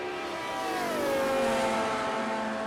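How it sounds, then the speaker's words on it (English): Ford Capri Group 5 race car in a racing video game, its engine loud and close, revving high and then dropping in pitch through a gear shift before settling into a steady howl. "the car makes very varied sounds. The Capri does, the better you shift."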